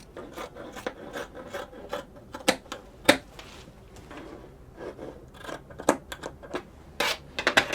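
Scissors cut through dress fabric in a run of short rasping snips and rubbing strokes, close and moderately quiet, with irregular louder cuts and no talking.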